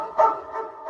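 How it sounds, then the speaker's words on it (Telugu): A male dog gives a single short bark followed by a fainter second yap, close and clear, with no talk over it. "కుక్క ఇది మామూలు కుక్క కాదు"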